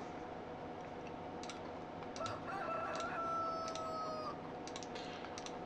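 A rooster crows a couple of times among farm chickens in the video game Farming Simulator 2013, faint and fairly close, mixed with light keyboard clicking and no talking.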